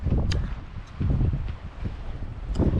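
Wind blowing across the deck of a sailing ship under sail, with a steady, fairly loud rush and buffeting noise on the microphone and a few brief creaks and knocks mixed in.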